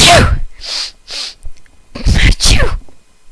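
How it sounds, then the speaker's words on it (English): An animated cook in a restaurant kitchen lets out loud cartoon sneezes, with a sharp "achoo" burst near the start and two more sneeze bursts later, each separated by short silences. "Achoo!"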